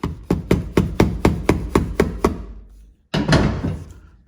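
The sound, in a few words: big hammer knocking pin out of VW Bug door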